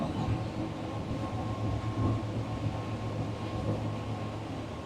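Stabicraft 2250 boat running on the water with twin 140hp digital Honda outboards trimmed up, a continuous steady engine drone with a low hum and broad wash noise, no talk.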